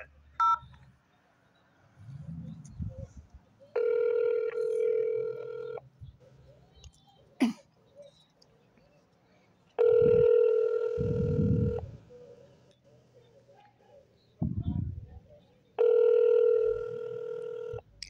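Touch-tone keypad beeps and steady dial tone on an automated phone menu line, sounding in three sustained bursts of a few seconds each, with short tonal blips and low rumbling handling noise between them.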